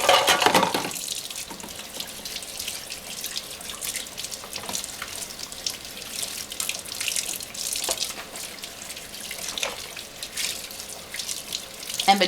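Omega 8004 juicer parts are rinsed under a running tap, with a steady splashing water stream close by and occasional light clinks of parts throughout.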